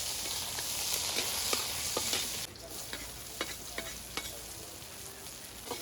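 Garlic and onion sautéing in a pan over a bamboo-fueled fire outdoors, with a constant hiss of frying and scattered crackles and clicks of stirring, moderately quiet and close.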